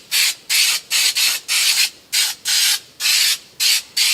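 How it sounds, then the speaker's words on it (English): 3M Super 77 spray adhesive is sprayed around the edges of a panel inside a square-body Chevy truck, about ten loud, close hissing bursts in quick succession with short gaps between them. "I'm going to take my Super 77, I'm going to spray around the edges right here."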